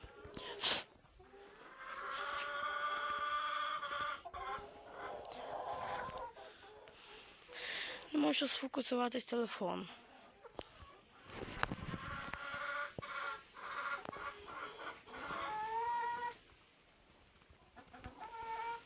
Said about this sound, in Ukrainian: Та курка.